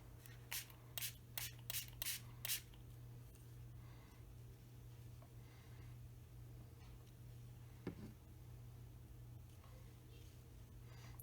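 A quick series of six or so short spray-bottle hisses at the start, followed by quiet rubbing and faint handling noises over a low background hum.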